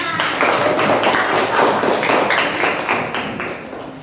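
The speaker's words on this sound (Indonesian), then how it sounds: "Tepuk tangan." Indonesian schoolchildren in a classroom clap together for about four seconds, a dense, loud burst of many hands that holds steady and then thins slightly at the end, with no talking over it.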